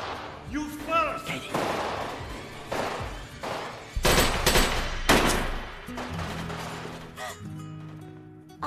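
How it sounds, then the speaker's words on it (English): Gunfire in an action film scene: loud, sharp bursts and volleys of shots crowd a dense, busy mix, with voices and score underneath. "Are those guns, Honey Bunny?"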